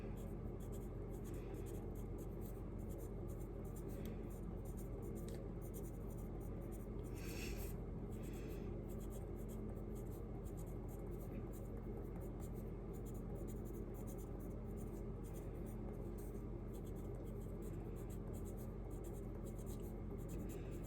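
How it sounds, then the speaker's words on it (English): A pen writes a message inside a handmade card. Faint, continuous scratching and rubbing sit close under a steady background hiss, with a brief louder scrape partway through. "I'm gonna go ahead and write something special on the inside of mine"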